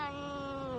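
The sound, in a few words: cat meowing in a played clip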